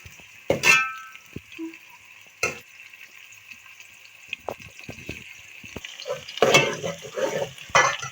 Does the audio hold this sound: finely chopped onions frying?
yes